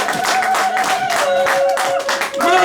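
Church congregation clapping along in rhythm during worship, steady repeated claps mixed with voices and music in a lively room.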